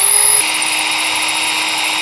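A power drill bores into a graphics card on a tabletop, a brief clatter giving way to a steady, loud grinding whine that holds for the rest of the moment.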